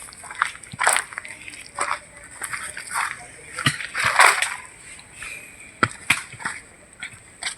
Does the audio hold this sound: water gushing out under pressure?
yes